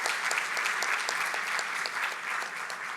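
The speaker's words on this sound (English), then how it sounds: "Big round of applause." Sustained applause from a conference audience at the close of a medical meeting, dense even clapping with no pauses over a steady bed of crowd noise.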